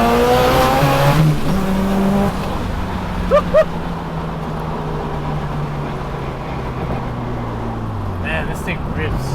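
A big-turbo Bridgeport-ported rotary engine in a Mazda RX4 is driven hard, with a falling engine note and tire noise carrying on at moderate distance, then easing into a steady mechanical drone with a few sharp chirps.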